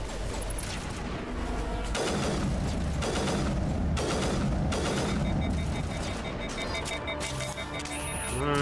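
A three-round-burst sniper rifle fires in Mass Effect, sharp broadband volleys repeating roughly once a second amid rumbling battle noise and faint electronic tones.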